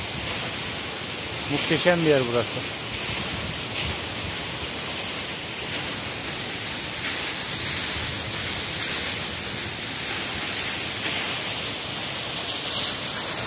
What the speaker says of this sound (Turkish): Giresun Şebinkarahisar Çağlayan Şelalesi.